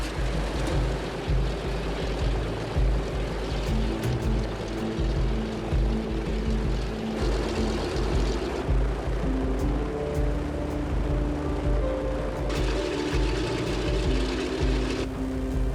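A DC-3's piston aircraft engine, which has an oil leak, runs steadily and loudly in flight, its droning tones shifting in pitch a few times over a constant roar.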